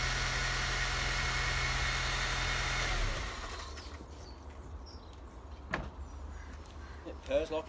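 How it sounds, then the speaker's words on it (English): A Honda Civic Type R engine idles with a steady low hum right after an oil and filter change, then shuts off partway through, leaving quiet garage sounds and a few small knocks. "run the engine just for a short period to allow the oil to circulate"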